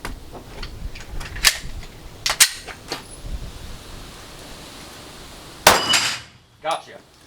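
Stock Gen 5 Glock 19 pistol fired during a shooting comparison: several sharp, loud gunshot cracks at irregular intervals, one followed by a brief ringing decay.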